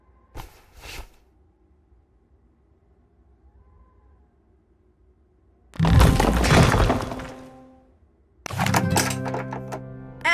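A bedroom wall blasted open in Dracula 4: a short muffled thump, then a loud crumbling, shattering burst of debris lasting a couple of seconds, followed by another heavy rumbling crash with a low resonant tone.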